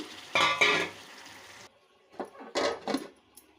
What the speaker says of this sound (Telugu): టమాటా మగ్గిందండి, ఇక చికెన్ వేసేస్తున్నాను.